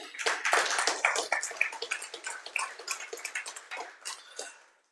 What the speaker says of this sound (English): let us give OneShot International a round of applause